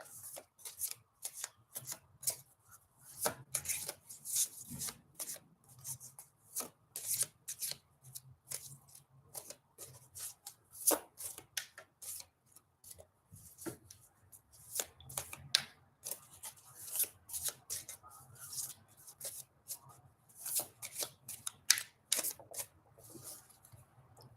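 Tarot cards are shuffled over and over, a long run of crisp riffling and soft slaps in quick irregular bursts, close and fairly quiet, no voices.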